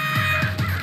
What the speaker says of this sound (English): those darn birds are back